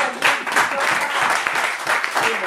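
A church congregation claps and applauds together during a worship service, a steady close wash of clapping that holds for a couple of seconds.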